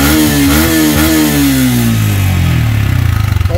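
Yamaha Sniper 150 motorcycle with a replaced exhaust, engine revving loud and close with rising and falling pitch, then dropping toward a lumpy, pulsing idle.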